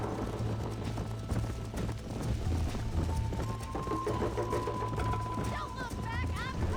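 Horses gallop in the Red Dead Redemption video game on PS4, their rapid clip-clop hoofbeats steady and close throughout, with voices and a thin high tone rising over the racing hooves.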